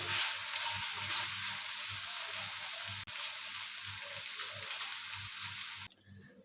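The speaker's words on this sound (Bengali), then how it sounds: "এখন আমি আরেকটু হালকা ভেজে নিব" Chicken pieces sizzle steadily in a hot pan, a dense continuous crackle with soft low stirring knocks throughout, close and fairly even, cutting away to near quiet at the very end.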